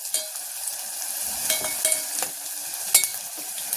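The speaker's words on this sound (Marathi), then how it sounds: "हा आपला कांदा आता चांगला भाजत आलेला आहे" Onion browns in a hot pan for a safflower-greens dish, giving a soft, steady sizzle with scattered spoon scrapes and clinks up close, and no voices.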